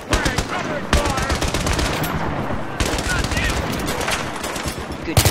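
Rapid machine gun fire in the Battlefield 3 campaign, with dense, continuous bursts of close, loud shots under shouted voices.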